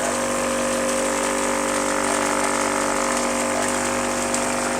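Water flowing continuously through a PVC trommel recirculation syphon tube, a steady loud gushing rush with a constant pump-like mechanical hum underneath.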